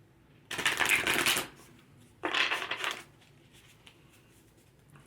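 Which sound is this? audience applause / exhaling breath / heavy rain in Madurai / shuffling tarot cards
shuffling tarot cards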